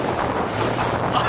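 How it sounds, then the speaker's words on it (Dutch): A fishing boat bouncing over waves, with loud, continuous wind buffeting the microphone and rushing water under the hull. "Ik zit er gewoon elke keer wheelies te doen met de boot."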